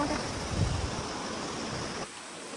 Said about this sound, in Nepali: साउन्ड सुन्नु न खोलाको